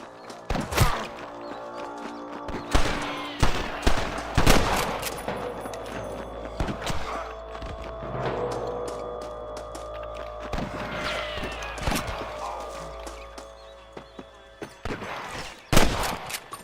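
Gunfire in the Western video game Red Dead Redemption, with repeated loud sharp shots and rapid volleys over a rumbling backdrop of battle and hoofbeats, some near and some distant.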